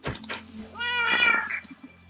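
A cat meows in the video game Minecraft, one drawn-out, clear meow close up after a few soft clicks, over a quiet low background hum.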